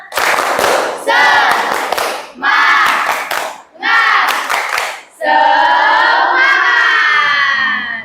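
A classroom of students performs the rhythmic 'tepuk semangat' clap-and-chant, with loud bursts of group clapping and shouted words in short separated phrases, ending in a longer sustained group shout.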